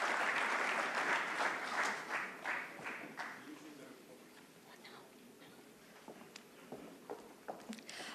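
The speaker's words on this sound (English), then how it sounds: "let's give a huge round of applause to our keynote speaker for today" A large conference audience at TiEcon Mumbai 2019 applauds keynote speaker N Chandrasekaran, chairman of Tata Sons. The clapping is loud and dense at first, then thins and fades to scattered claps and faint murmuring.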